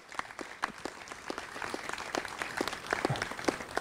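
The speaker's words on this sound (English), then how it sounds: "Getting a huge round of applause." Crowd at an outdoor riverfront bridge dedication applauds, a faint, somewhat distant round of clapping with distinct individual claps that swells slightly toward the end.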